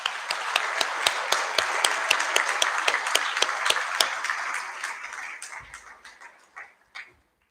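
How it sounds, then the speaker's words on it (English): Audience applause at a Year 12 and 13 school prize giving assembly, steady dense clapping from a large crowd that thins out and fades to a few final claps near the end. "Let's give him a round of applause."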